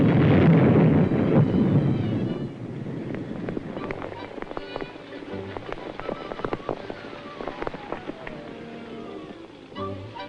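Dynamite charges placed across a stream during underwater pipeline ditch work go off in a loud, rumbling burst at first, then fade into scattered cracks and rattling debris over wind noise.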